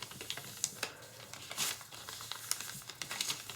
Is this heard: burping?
no